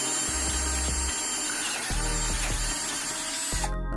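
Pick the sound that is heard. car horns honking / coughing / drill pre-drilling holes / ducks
drill pre-drilling holes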